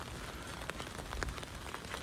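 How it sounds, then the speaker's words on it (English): Steady rain falling on a street in Delft in the Netherlands, a dense close patter with scattered louder drops, no voices. "it's raining and it's going to keep raining for at least 2 hours"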